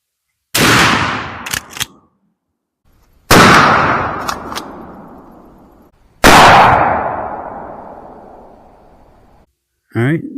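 A 20 gauge shotgun fires 3-inch magnum Federal Truball rifled slugs outdoors, three loud sharp blasts spaced a few seconds apart, each trailing off in a long rolling echo, with a fourth shot starting at the end.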